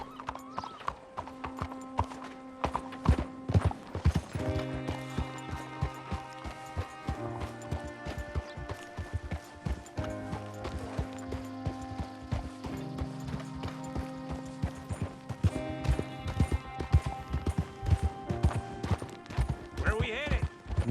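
Horse hooves in Red Dead Redemption 2 clip-clop in a steady walking rhythm, close and clear, over background game music, with an occasional whinny and voices talking intermittently.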